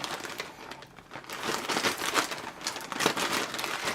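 Protective plastic packaging around a new OnePlus 6 phone crinkles and rustles continuously at close range during unboxing, with brighter crackles toward the end.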